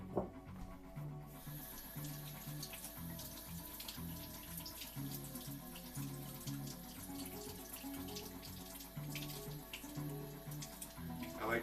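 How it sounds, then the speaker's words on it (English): Hot water runs steadily from a tap onto a baking pan, a continuous splashing hiss that is faint and constant throughout with no talk. "drizzle it with some hot water"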